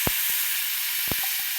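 Water is poured into a hot pan holding roasted, ground peanut powder and sizzles hard with a bright, steady hiss, while a few dull knocks sound in the pan.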